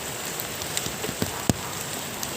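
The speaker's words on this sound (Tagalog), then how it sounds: "sinugod ko yung malakas na ulan" Heavy rain pours steadily onto a surface, a dense hiss with scattered louder drops and one sharp close splat, falling on a food delivery rider's raincoat.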